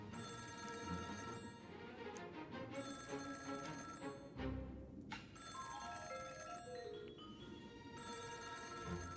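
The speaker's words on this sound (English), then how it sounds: "he's actually gonna answer the phone" A telephone bell rings repeatedly in Honkai: Star Rail, loud and close in steady bursts over a musical game background.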